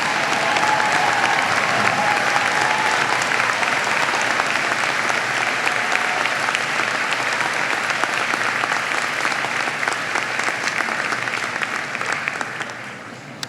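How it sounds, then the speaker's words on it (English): Sustained, dense applause from a large audience at a university winter commencement ceremony, loud and even throughout and fading slightly at the very end. "give them a round of applause"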